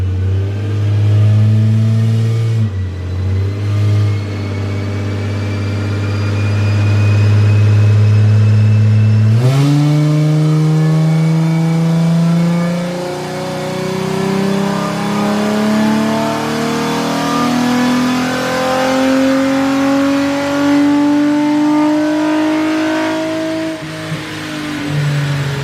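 An automatic Nissan 350Z running E85 revs on a dyno. The engine holds a steady drone, then climbs in a long, rising pull with shifting harmonics, loud and close, before easing off at the end.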